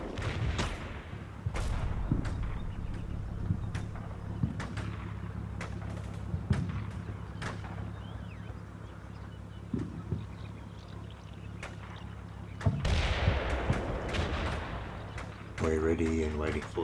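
Artillery fire in the video game Combat Mission Cold War: repeated distant booms and sharp cracks over a steady rumbling battlefield background, with a voice talking throughout.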